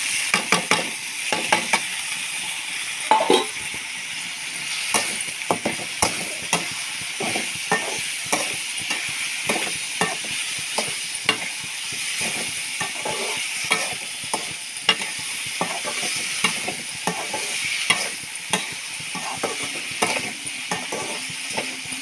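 Potato pieces frying in a pan for potato curry, a continuous loud sizzle broken by frequent scraping stir strokes in an uneven rhythm, with no voices.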